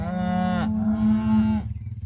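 Cattle moo loudly and close on a ranch as cow pairs are driven out to summer pasture, two long drawn-out calls following one another with a low rumble underneath.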